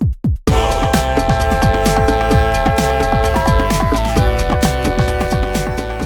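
Video game menu music made of flutes, bongos and synth bass plays loud and steady, with a driving percussive rhythm under sustained melodic tones and no voices.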